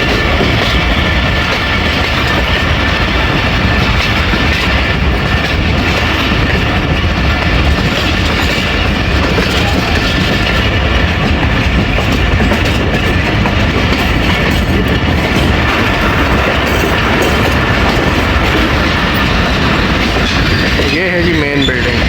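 Tezgam Express passenger train running fast on the rails between Rawalpindi and Lahore, heard from inside a coach as a loud, constant roar of wheels and rattling carriage noise with no pause.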